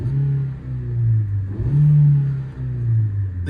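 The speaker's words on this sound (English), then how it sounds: "So I'll give it a quick rev for you." Petrol engine of a 2008 Nissan Note 1.6 Tekna manual revved in the yard, with a steady idle hum rising and falling through two loud, close blips, and no voices.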